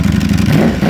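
Ducati Panigale V4 R sportbike engine revving up close, a loud, rough mid-range roar with a brief clattery edge, heard alone in a short burst.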